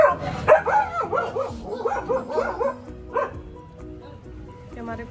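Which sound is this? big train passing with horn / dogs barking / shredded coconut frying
dogs barking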